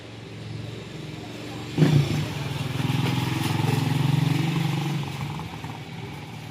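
A motorbike engine idles and revs nearby, a steady rumbling drone with a brief louder surge, continuous and fairly loud.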